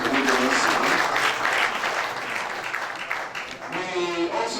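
Audience applause for the director general at an official visit, a dense, steady clatter of clapping from a crowded room, with voices audible in the mix.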